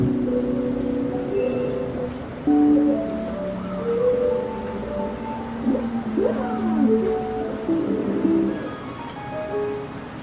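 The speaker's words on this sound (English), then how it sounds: "Firstly, it's raining, but it's still kind of warm and I have the window open" Rain falls steadily outside an open window, a constant hiss with scattered drops. Faint tonal sweeps sound over it throughout, and no one speaks.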